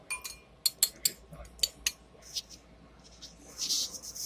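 A metal spoon clinks and scrapes against a pot of turkey soup: several sharp, light taps in an uneven cluster, then softer stirring scrapes, close and fairly quiet.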